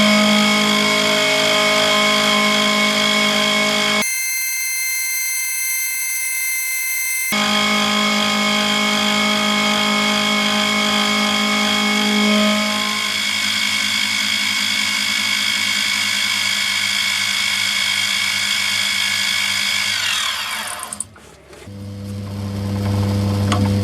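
A metal-cutting machine shapes stock for an LG400 trigger guard with a loud, steady mechanical whine and rumble. It briefly stops partway, resumes, then spins down near the end.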